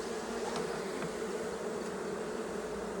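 Steady close insect buzzing from bees around an unmated queen taken from a swarm, a continuous even drone with a couple of faint brief ticks, no voices.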